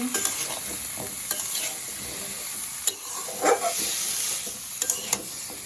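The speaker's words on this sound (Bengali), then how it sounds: "এটাকে নাড়িয়ে দিব কাঁচামরিচ দিয়ে দিচ্ছি" Turmeric and chilli powder with green chillies being stirred in a hot pan alongside frying aubergine, a steady close sizzle broken by sharp scrapes and clinks of the spoon.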